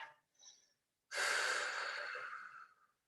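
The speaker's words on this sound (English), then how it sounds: "Breathing into the stretch all the way up the backside of that left leg." A person breathing during a yoga stretch: two faint short breaths, then one long, loud, airy exhale lasting nearly two seconds, close and alone.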